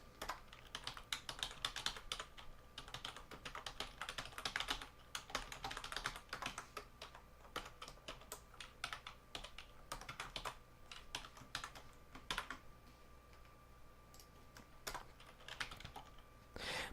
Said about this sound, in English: let me type this out real quick